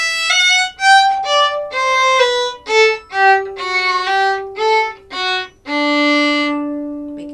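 A violin plays a short slurred exercise from Handel's Bourree: a series of clear, sustained bowed notes in small groups, close and alone, with the last note held longest.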